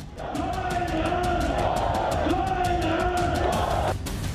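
Dense crowd roar at a political rally at Minar-e-Pakistan in Lahore, a steady loud wall of many voices with shouts rising over it, continuous throughout with a brief dip near the end.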